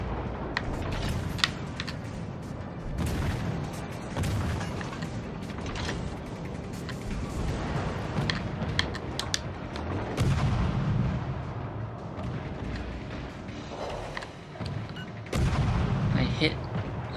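Naval guns in World of Warships Legends firing on a coastal town, heavy booms and crackling impacts repeating through continuous battle noise with engine rumble and game effects.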